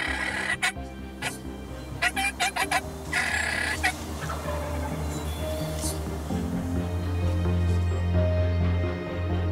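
A hunter's turkey call imitates fighting turkeys, giving repeated loud gobbles and sharp clucks in rapid bursts over a steady low hum outdoors, with no voices.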